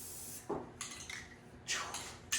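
Rust-Oleum 2X Ultra Cover paint and primer sprays onto a surface in several short, crisp hissing bursts of uneven length, separated by brief quiet gaps.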